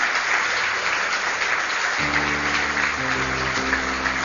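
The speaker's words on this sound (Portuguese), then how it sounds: "Vamos aplaudir mais o Senhor Jesus" A church congregation keeps up loud, continuous applause while a sustained organ or keyboard chord enters partway through and shifts beneath the clapping.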